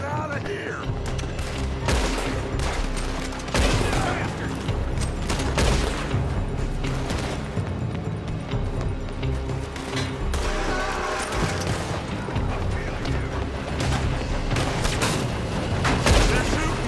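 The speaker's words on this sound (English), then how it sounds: "They're shooting from that building." Gunfight in Red Dead Redemption 2, with dense bursts of shots and booms running throughout at steady loudness, layered over game music and ambience.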